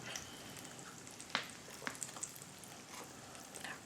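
Soft, steady sizzling of pumpkin spice donuts frying in oil, with faint crackles and pops scattered throughout, quiet and close.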